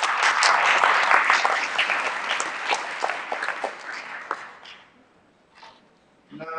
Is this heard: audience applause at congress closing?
yes